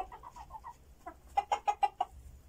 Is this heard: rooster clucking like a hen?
yes